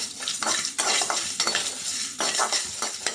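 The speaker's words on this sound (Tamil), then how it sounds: "இது வாசனை வர வரைய வறுத்து எடுத்துப்போம்." Dry spices for a Chettinad vanjaram fish fry rattle and scrape in a hot pan, stirred in repeated strokes with a soft, steady sizzle and no talking.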